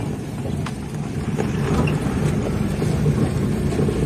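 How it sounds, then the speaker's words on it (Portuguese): A car drives along a dirt road toward a reservoir in a rural village, a steady engine and road rumble heard from inside, loud and continuous without speech. "será que esse carro vai até perto do açude?"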